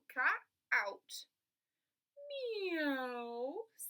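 A storyteller imitates a cat's meow with a long, rising then falling voiced wail, heard after a few short spoken words.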